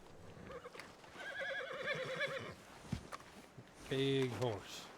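A horse in the video game Red Dead Redemption 2 whinnies twice, a long wavering neigh then a shorter one, amid soft hoof clops and low background sounds.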